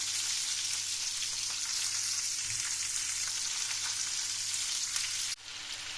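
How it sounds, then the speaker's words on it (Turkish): Steady, dense sizzling of peppers frying in a pan, continuous and close, with a faint clatter near the end. "Mantarlardan sonra biberlerimi de kızartıyorum."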